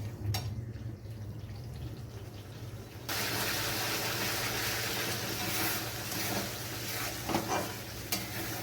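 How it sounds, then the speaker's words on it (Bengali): Spice masala with chilli powder being fried and stirred in oil in a pan for a raw banana kofta curry, a steady close sizzle with scraping stirs that grows louder partway through and continues without talk. "মশলাটা ভালো করে কষিয়ে নেব"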